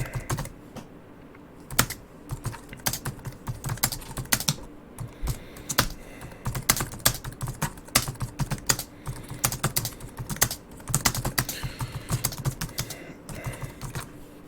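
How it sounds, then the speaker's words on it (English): Steady, close computer keyboard typing, dense runs of sharp key clicks with brief pauses, continuing throughout the stretch without any voices. "So let me actually type in here."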